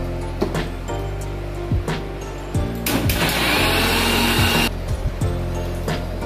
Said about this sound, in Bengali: আমরা বেটে নেব লাল শাক আর কাঁচা লঙ্কা